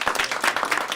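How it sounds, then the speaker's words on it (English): A short burst of audience applause after a new-works theatre festival performance, many hands clapping in a close, even patter. "One more round of applause for them."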